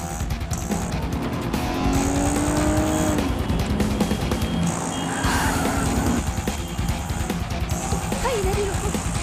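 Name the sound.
car speeding off with tires squealing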